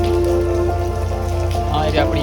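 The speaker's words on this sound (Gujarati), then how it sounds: "વરસાદ અત્યારે પણ ચાલુ જ છે" Steady rain patters close by on a motorbike ride in a continuous dense hiss, with faint voice-like sounds mixed in.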